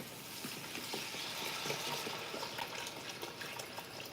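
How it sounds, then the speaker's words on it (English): Water pours steadily into a soup pot on a home kitchen stove, a continuous close splashing gush that holds at an even level throughout. "I'm going to put my water in here."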